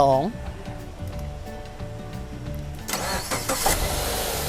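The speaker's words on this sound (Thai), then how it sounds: "ลองสตาร์อีกครั้งหนึ่งครับ" A car engine cranked and started with a 10000mAh 500A jump starter power bank, a short cranking whirr catching into a steady idle that then revs up louder, with someone talking over it.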